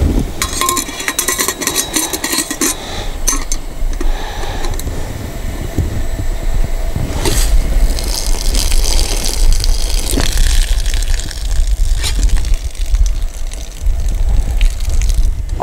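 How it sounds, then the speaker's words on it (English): Boiled noodles are drained through the pour spout of a bush pot at an outdoor camp kitchen, water gushing and splashing steadily for about fifteen seconds, close and fairly loud, with no talking. "So now that I have this convenient pour spout on my bush pot, it'll make it very easy to drain these off."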